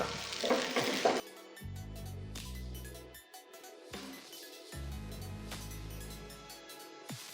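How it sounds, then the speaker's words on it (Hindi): A Maggi noodles omelette fries in oil in a pan, giving a bright crackling sizzle that is loudest at the start and then continues more softly beneath background music. "अब इस साइड से भी हम इसी तरह से इसे अच्छी तरह से फ्राई कर लेते हैं"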